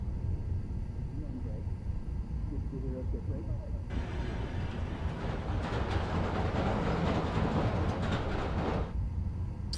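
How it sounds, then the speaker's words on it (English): A train rolls past in Harlem in the Spider-Man Miles Morales video game, a broad rushing roar that swells sharply partway through and holds steady before easing off, over a constant background hum. "Wait for the train to come by. Get close enough to record it."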